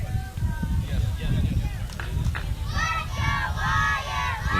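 Spectators at a 10U youth baseball championship game chant in rhythm from a distance, a crowd chorus blended with general stadium noise and a commentator's voice over the top.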